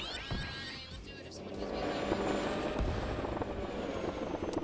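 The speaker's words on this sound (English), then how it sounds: "I can't hear a word you're saying right now over the aircraft." A loud aircraft engine roars and builds, with crackling bursts and rumbling noise filling the scene and a voice faintly underneath.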